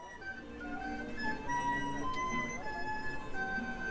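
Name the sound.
street barrel organ playing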